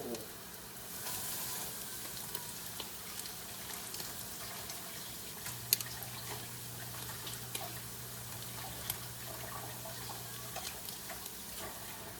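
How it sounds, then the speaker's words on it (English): Steady oil sizzle of salmon patties frying in a pan, a constant crackling hiss with small pops and faint utensil ticks throughout. "we're just about done frying these salmon patties"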